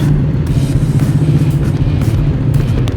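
A Honda CBR150R V3 sports bike engine rumbles close by, a steady loud low drone with a brief rising pass, no talk.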